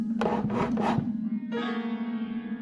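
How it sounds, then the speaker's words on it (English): A scrape across a wooden living room floor: three short rasping strokes in quick succession, then a sustained scraping tone, heard close over a low steady hum. "I heard a scrape on my living room floor"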